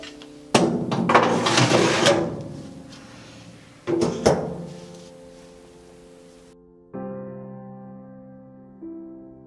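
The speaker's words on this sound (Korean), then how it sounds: "서랍을 빼서 나머지를 처리하시면 되십니다." The ash drawer of a Samjin Niobe cast iron wood stove is pulled out, with two rough metallic scraping slides followed by a softer, sustained ringing tone.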